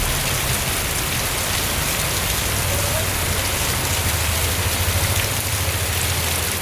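Heavy rain falls without pause over an auto stand in Cherukolpuzha, water running through it, a loud enveloping hiss with a low rumbling hum underneath and no distinct thunder crack.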